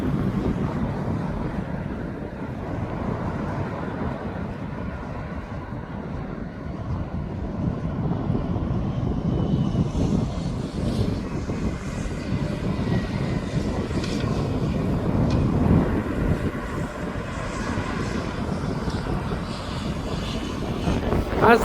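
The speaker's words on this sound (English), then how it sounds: "I think they're pushing back the aircraft" An aircraft being pushed back at East Midlands Airport: a continuous low rumble heard from a distance, mixed with gusty wind buffeting the microphone, rising slightly in the middle and staying steady.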